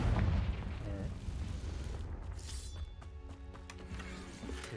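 The Confringo fire blast spell in Hogwarts Legacy goes off with a booming burst, then crackling, echoing impacts fade under ambient game sound.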